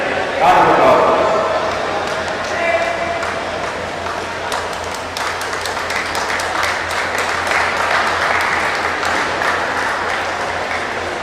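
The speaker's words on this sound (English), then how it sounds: "Round of applause, please." Sustained applause from a crowd at the final-day ceremony of a junior badminton championship in Mumbai; the clapping is dense and steady, with a louder burst at the start and voices mixed in underneath.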